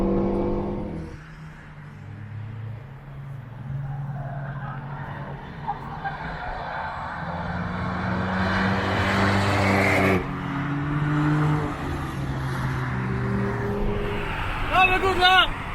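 A Renault Megane RS laps the Nürburgring Nordschleife, its engine note climbing steadily in pitch as it accelerates, then dropping sharply at a gear change before building again, heard from inside the car with faint voices.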